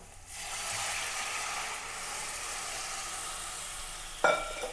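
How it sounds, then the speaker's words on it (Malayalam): Coconut milk hits a hot pan of sautéed onion, green chili and ginger for an egg stew, raising a steady, close sizzle that runs throughout, with a brief sharper clatter near the end. "സമയത്ത് നമുക്ക് 2 പാലും കൂടെ ഒഴിച്ചു കൊടുക്കാം."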